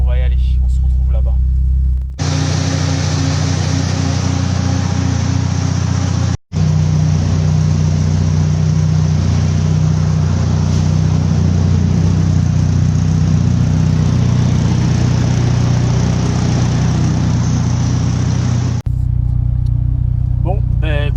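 Peugeot 106 petrol engine idling steadily just after starting, a close, continuous low hum and rumble that carries on for most of the stretch with one brief cut, fairly loud with no voices over it.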